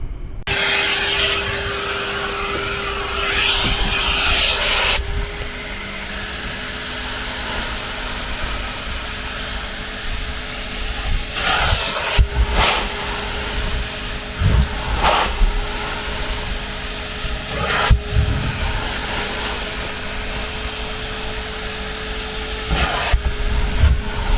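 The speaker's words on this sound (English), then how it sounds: "I'm just going to wet vac this, see how it comes out" A wet vac runs continuously over the carpet inside a 1991 Talbot Express camper van, a loud, steady whining hiss with a constant motor hum and sharp sucking surges as the nozzle moves across the fabric.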